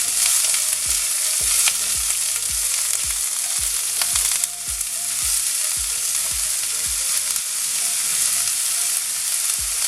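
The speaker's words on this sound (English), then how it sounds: "Gonna add the onions now. And give it a mix." Onions frying in a hot pan for okra bhaji, a bright steady sizzle with regular scraping and knocking as a spoon stirs them, close and loud, no talking.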